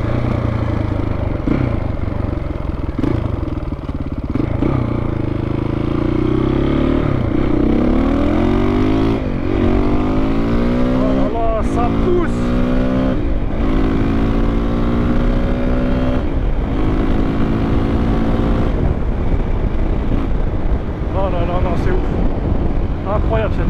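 A KTM 525 EXC dirt bike is ridden hard, its engine revving up and down in repeated rising sweeps and bursts of throttle, loud and close, with a rider speaking at times.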